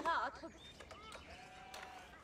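Sheep bleating in the Age of Empires IV strategy game: a quick wavering bleat up front, then quieter game tones and clicks, all low in level under a German-speaking commentator.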